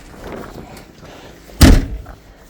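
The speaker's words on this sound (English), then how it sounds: "door shut" The door of a Volkswagen Beetle under restoration is shut once with a single solid, close thud after some quiet handling noise.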